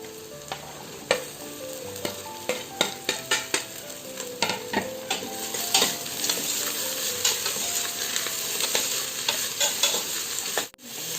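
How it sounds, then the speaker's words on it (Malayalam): Vegetables for a pressure-cooker vegetable biryani are stirred in a pan, with repeated scraping and clinking strokes over a continuous loud sizzle and no talking. "ഇനി ഇതിലേക്ക് നമുക്ക് പച്ചക്കറികളൊക്കെ ചേർത്ത് കൊടുക്കാം."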